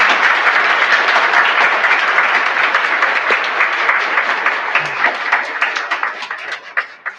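Audience applause for an eighth-grade award winner at a school awards ceremony at St. Angela Merici, dense steady clapping from a large crowd that thins out toward the end, with a few scattered claps trailing off.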